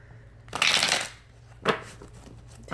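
Tarot cards being shuffled close up, a long riffling rush of cards followed by two shorter snaps, with quiet room tone between them and no talking.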